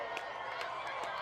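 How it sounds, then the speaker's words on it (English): A crowd cheers and shouts during a total solar eclipse, a steady, wide wash of many voices with a few sharper yells standing out. "And the crowd goes wild."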